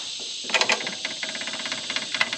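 An Onan backup generator's gas engine cranks over in a rapid, rattling mechanical chatter with a steady hiss behind it, struggling without catching, close and moderately loud, with no talking.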